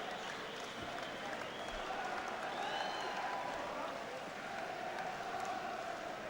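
Boxing crowd applauding both fighters after a drawn professional bout, steady continuous clapping and crowd noise filling the whole stretch at moderate distance, with a faint murmur of voices underneath.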